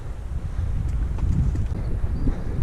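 Steady wind gusts buffet the microphone of a fat bike rider on the Haut Tanargue near Valgorge in the Ardèche, carrying small bits of ice, a continuous loud low rumble with a few faint ticks.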